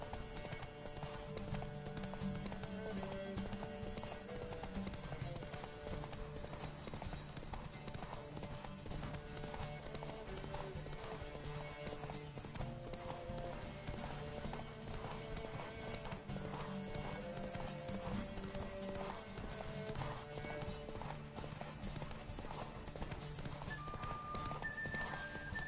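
Steady clip-clop of galloping horse hooves in The Witcher 3 runs throughout under game music, with an occasional whinny.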